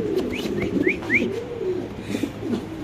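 Pigeons at a large pigeon farm, including an Indonesian breed, give low repeated coos with a few brief higher chirps, close by over a soft background hum.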